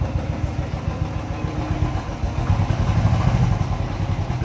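A Royal Enfield motorcycle engine idles steadily just after a jump start to fix a battery problem, a close, continuous low thump with some mechanical clatter, running alone without talk.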